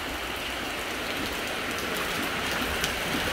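Steady rain falling on a surface in the afternoon, a dense continuous hiss with scattered pattering drops, even and unbroken throughout with no talk.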